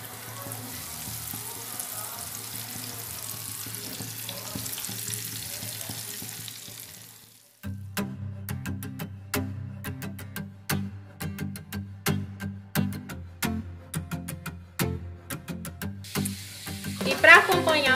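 Piramutaba fish fries in very hot fat with a soft, steady sizzle, then a run of sharp utensil clinks and taps over the crackling.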